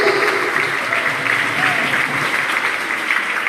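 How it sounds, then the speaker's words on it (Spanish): A congregation at a church youth leadership conference applauds in a steady, dense wash of clapping that runs throughout, with some voices mixed in. "Denle un aplauso a Jesús en esta tarde, por favor"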